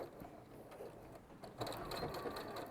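Sewing machine stitching piping onto a fabric edge, a steady mechanical whirr and rattle running throughout at moderate level, slightly louder in the second half.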